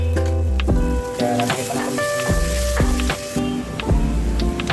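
Tomatoes with masala sizzle in a pan for a Konkan-style mackerel fish curry, a steady frying crackle broken by repeated scraping stirs of a spoon against the pan, close and fairly loud, with no speech.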